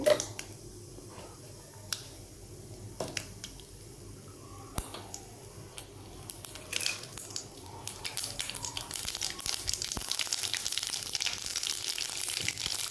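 Mustard seeds splutter in hot oil in a kadai, scattered sharp pops and crackles over a low sizzle, sparse at first and growing denser and louder toward the end, with no talking.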